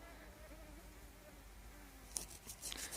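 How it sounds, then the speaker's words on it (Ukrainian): Mosquitoes buzzing in a faint, thin, continuous whine around a metal-detecting search site in Ukraine, with low background noise and a few brief clicks near the end. "Ну, комарів достатньо, однозначно."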